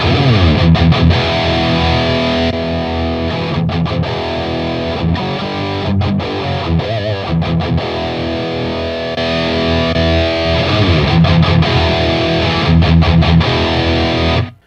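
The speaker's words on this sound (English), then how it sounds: "Oh, that's reverb. Oh, cool. All right, so there's some reverb in this amp." Distorted electric guitar chords ring out loudly through an Engl Special Edition Founders Edition amp, sustaining with a washy reverb tail between strums.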